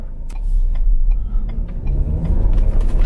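A 2022 Ford Explorer Limited AWD with the 300-horsepower 2.3L EcoBoost engine accelerating in normal mode, a low engine rumble building steadily from inside the cabin, with light clicks above it and no talk.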